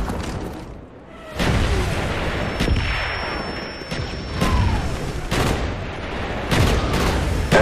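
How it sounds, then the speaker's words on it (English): Enemy mortar fire in the video game Call of Duty: Black Ops, in a match on the map Stockpile: repeated heavy booms and blasts land every second or so, loud and close, amid ongoing game noise. "Enemy mortar team spotted."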